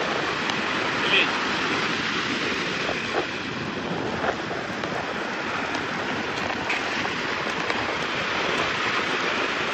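Steady roar of sea waves and surf at Ongole with wind rushing across the microphone, continuous and fairly loud throughout.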